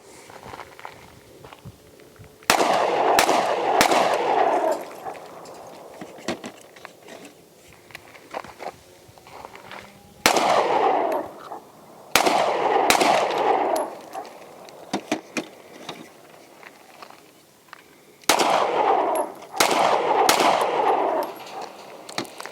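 Two pistols, a Sig P365XL Spectre Comp and a Hellcat RDP, fire in three bursts of three sharp cracks each, loud and close with short quiet gaps between strings.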